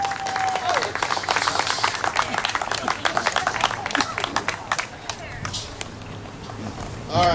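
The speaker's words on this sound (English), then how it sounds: "Let's give him a round of applause." Crowd applause at an outdoor charity car show, a moderately loud, fairly close burst of clapping mixed with chatter and voices, which thins out toward the end.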